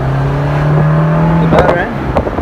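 A manual sports car idles and then pulls away in first gear, a steady engine tone rising before breaking into uneven bursts and clunks, with people talking nearby.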